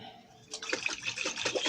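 Water sloshes and rattles inside a glass pasta sauce jar being shaken, starting after a quiet moment and continuing as a busy, close, fairly faint splashing burst.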